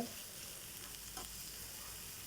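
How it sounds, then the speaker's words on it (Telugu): Fenugreek leaves frying and being stirred in a pan for mutton and fenugreek curry, a steady close sizzle with soft scraping throughout and no talk. "ఈ విధంగా ఫ్రై చేసుకోవాలండి మెంతుకూరని"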